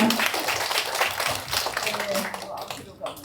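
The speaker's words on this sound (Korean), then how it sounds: "김미경 구청장님 한해 박수 부탁드리겠습니다" Audience applause for a district head at a neighborhood residents' general assembly, a short burst of scattered clapping from a modest indoor crowd that fades out near the end, with talking mixed in.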